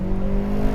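A Hyundai Veloster N engine blips in a rev-matched downshift into second gear inside a tunnel, a steady, loud, droning engine note with strong low harmonics echoing continuously throughout.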